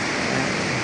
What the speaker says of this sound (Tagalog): Medyo talagang mabilis at biglang bumagsak ang ulan, ang lalakas ng patak.